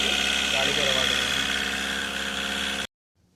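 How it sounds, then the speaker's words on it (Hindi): A VW Vento with engine knocking, pickup problems and overheating is held at raised revs in a workshop, a steady loud drone with a faint hum, close by, before it cuts off abruptly. "गाड़ी में भी रेस दे के रखा हुआ है"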